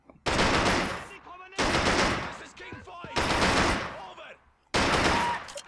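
Gunfire from a firing squad in the WW2 game Men of War Assault Squad 2: four loud bursts of rapid shots, each cut off sharply, separated by short pauses.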